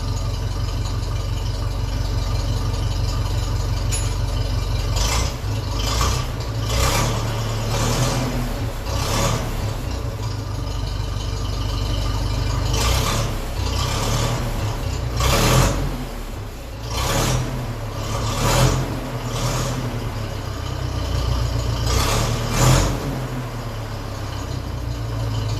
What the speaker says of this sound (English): I'll just give the throttle a bit of a rev, sharp rev, and see what sort of sound we get.